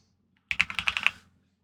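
A burst of about eight quick keystrokes on a computer keyboard, typing a Minecraft server admin command, close and clear, with silence on either side.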